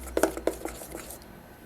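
Pancake batter is beaten in a bowl with a few quick clinking taps of the utensil against the side, then softer swishing that fades out. The sound is fairly faint and there is no talking.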